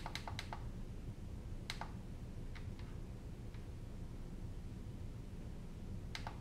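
Someone types on a computer keyboard while entering a name during drone flight-controller setup, with several short bursts of clicking keys and brief pauses, fairly faint over a steady background hiss.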